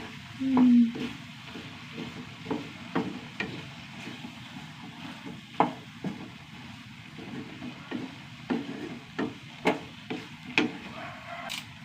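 Ground coconut paste sizzles and fries in a pan while a spoon stirs it, making scattered scraping clicks over a constant frying hiss.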